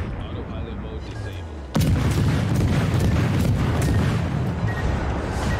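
Cannons boom in a naval battle video game: a muffled rumble gives way to a sudden heavy blast, then dense, continuous rumbling fire that stays loud and close.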